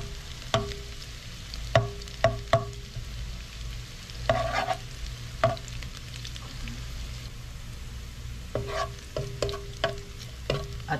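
Garlic sautés in hot oil in a pan for a Filipino chicken afritada, a continuous sizzle punctuated by repeated sharp spatula scrapes and clacks at irregular intervals.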